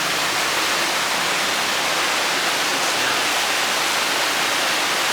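Loud, continuous rushing floodwater roars down a street in Manila without a break, a dense steady wash like a torrent flowing close by.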